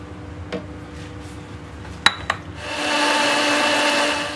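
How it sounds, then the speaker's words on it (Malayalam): An electric mixer grinder starts up and blends all-purpose flour and salt for shawarma bread, a steady loud whirring drone after a few sharp clinks of the jar being set in place. "നമുക്ക് ഇനി ഇതിനെ ഒന്ന് മിക്സിയിലിട്ട് അടിച്ചെടുക്കാം"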